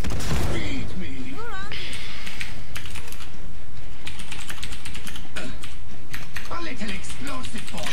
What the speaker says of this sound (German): Ich schreibe dem hier schnell mal, dass er die AE-12 aufnehmen kann